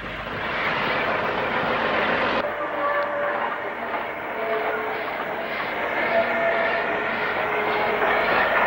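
A 204 horsepower diesel shunter, later Class 03, moves railtour coaching stock in the background at Weymouth: a continuous rumbling drone with rolling wheel noise that shifts in tone partway through.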